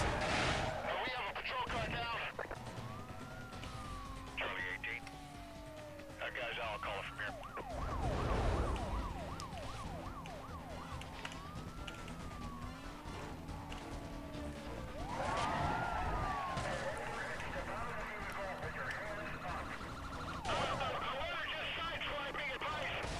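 A police car siren in Need for Speed: Most Wanted sweeps up and down repeatedly over engine roar and game effects during a chase, with brief speech and bursts of noise interrupting.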